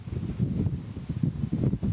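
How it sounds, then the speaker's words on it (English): Strong wind gusts near bushfires buffet the microphone in a loud, continuous low roar that swells and pulses in uneven surges. "It just stings every time when these gusts come through."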